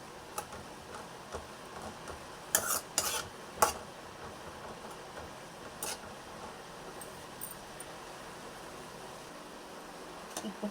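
Kesari being stirred as it cooks in a pan, giving faint scattered ticks and a few clustered metallic scrapes of the spoon over a low, quiet background, with no voices.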